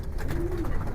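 Giribaz pigeons give a brief soft cooing call, close by, over a low rumbling background.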